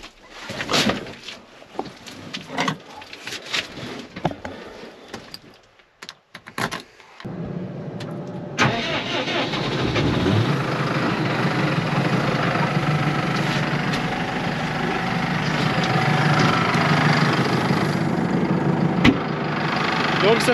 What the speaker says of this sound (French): je vais commencer par démarrer le tracteur, comme ça lui laissera le temps de chauffer